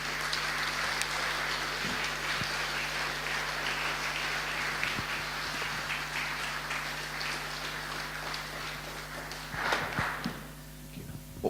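Audience applause at a diocesan synod, a steady sustained wash of clapping from a large hall crowd that carries on for several seconds, then thins and tails off near the end.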